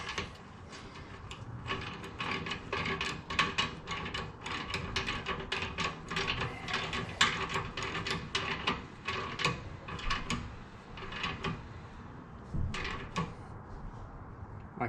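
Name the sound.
ratchet tightening 14 mm rear bolts on a Harley Street Glide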